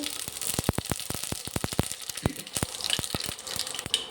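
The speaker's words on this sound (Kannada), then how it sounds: "ಸ್ವಲ್ಪ ಸಾಸಿವೆ ಮತ್ತು ಬ್ಯಾಡಗಿ ಮೆಣಸು" Mustard seeds and Byadagi chillies frying in a little hot oil for rasam, with sharp crackling pops and sputters in quick irregular bursts over a steady sizzle, close and fairly loud.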